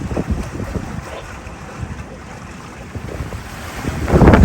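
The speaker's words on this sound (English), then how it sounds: "Southwest breeze now." Wind blows across a sailboat under way at sea, making strong gusty microphone buffeting over a wash of water and waves, which swells louder toward the end.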